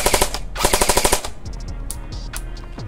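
An electric airsoft gun rattles off two quick full-auto bursts, close and loud, followed by scattered clicks and light handling noise.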